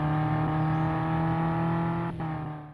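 A steady, droning racing car engine in a mobile video game hums at a constant pitch, loud and close, with a brief dip near the end.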